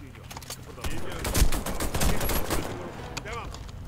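Sidearm fire in the video game Warface: a loud, close flurry of rapid shots clustered in the middle of the clip, with a voice faintly present.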